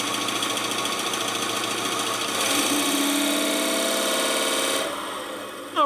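Wood lathe turning one half of a wooden deadblow mallet held in a four-jaw chuck, a loud continuous whirring drone with the tool engaging midway and spinning down near the end.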